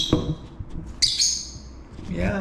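A hungry, lost small bird that has flown into a house gives a few faint chirps and squawks indoors, with a brief sharper call mid-way and soft human sounds nearby.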